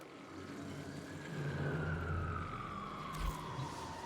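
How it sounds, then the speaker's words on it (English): A siren sounds outside a room during a Warframe gameplay session, a faint wailing tone sliding slowly downward over steady low background rumble and game sound. "Seriously, where is there a siren coming from right now?"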